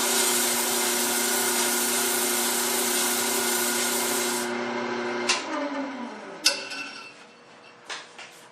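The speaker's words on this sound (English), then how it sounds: "At this point, I like to use that sandpaper I was talking about." Sandpaper rubbing against a wooden cryptex box spinning on a lathe, a loud steady hiss with motor hum for about four seconds, then fading as it winds down, followed by a few sharp taps and knocks.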